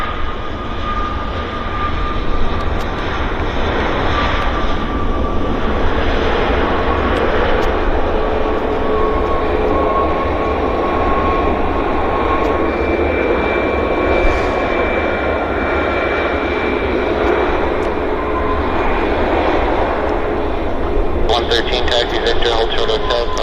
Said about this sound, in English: Fast taxi on the Airbus.